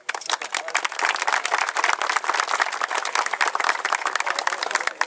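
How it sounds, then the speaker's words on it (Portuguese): A crowd claps for honorees at a sports trophy ceremony, a dense, continuous patter of hands that carries on steadily for several seconds without talk. "Então, José Miranda e Thiago, queria uma salva de palmas para esses"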